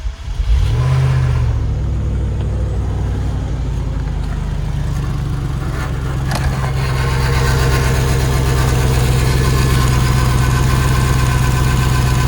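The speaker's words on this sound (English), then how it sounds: "We'll do a quick cold start here and fire it up and see how bad it sounds." A 1989 Range Rover Classic short-wheelbase engine, its muffler just repaired, cranks and fires on a cold start, then settles into a loud, steady, rough idle with a deep low rumble that runs throughout.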